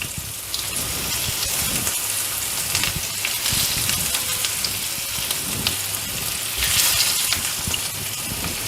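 Steady, dense sizzling of stuffed bitter gourd frying in hot oil, loud and close, with crackling bursts throughout and no talking.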